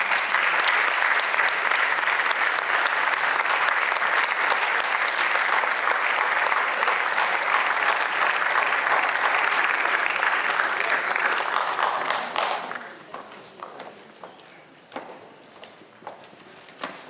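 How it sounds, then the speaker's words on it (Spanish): An audience at an awards ceremony during a Latin cultural festival applauds steadily and loudly for about twelve seconds, then the clapping thins out into scattered claps. "Y un aplauso a ellos."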